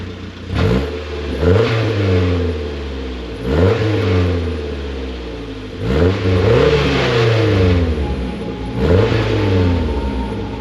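A Mazda Protege engine with its exhaust silencer removed revs up repeatedly, each rise climbing to a loud, raw roar and falling back, about four revs in quick succession, close and with no talk.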